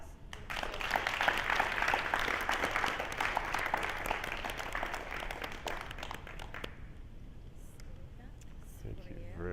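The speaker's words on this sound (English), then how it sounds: "giving them another round of applause" An audience gives another round of applause at a recognition program. Dense, steady clapping fills most of the span, then stops abruptly, leaving a quiet room tone.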